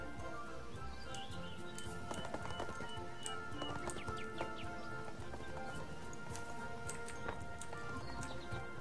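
Horse hooves clip-clop in the 2014 video game ArcheAge, a steady run of hoofbeats under ambient game sounds with occasional bird calls, fairly quiet and continuous.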